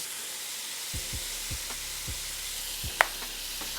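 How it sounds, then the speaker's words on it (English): Cheesesteak egg roll filling with seasoning is stirred in a hot pan, giving a soft continuous sizzle with a series of scraping strokes from the utensil and one sharp clink. "I'm gonna give this a good mix."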